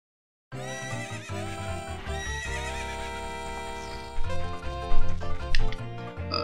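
Epona, the horse in Zelda: Ocarina of Time, whinnies loudly over a tonal game background, and quick clip-clop hoofbeats follow as she gallops near.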